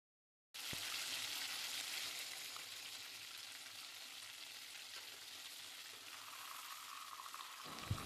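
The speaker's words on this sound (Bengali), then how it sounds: "এরপর একটা একটা মাছ ব্যাটারে ডুবিয়ে গরম তেলে ছাড়লেই রেডি আমাদের লোটে ফ্রাই" Batter-coated lote fish (Bombay duck) dropped into hot oil, a sudden onset into a steady, bright frying sizzle that holds for several seconds with a small knock near the end, no talking.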